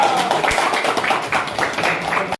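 A classroom group claps for quiz winners at a school math event, a dense patter of many hands lasting a couple of seconds before stopping abruptly.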